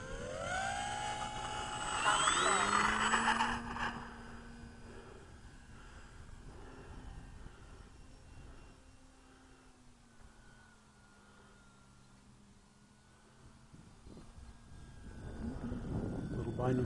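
An electric E-Flite Pitts 850mm S1-S RC biplane on a 3S 2200 battery whines in flight, rising to a loud peak early, then holding a steady, softer hum that dips and swells again near the end, with a voice at times.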